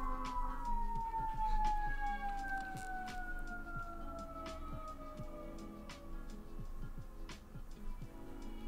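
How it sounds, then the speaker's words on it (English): An emergency vehicle siren wails outdoors in the distance, its sliding tone growing louder over a faint ticking indoor background, with no one talking. "There's a siren in the background."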